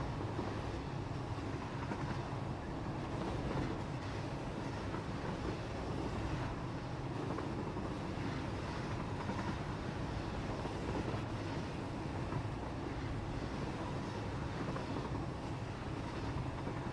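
An ore-carrying train in Satisfactory rumbles along in a steady, unbroken wash of rolling mechanical noise, even in loudness throughout, with no voices.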